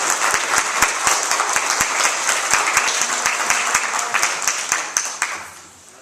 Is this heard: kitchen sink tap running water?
no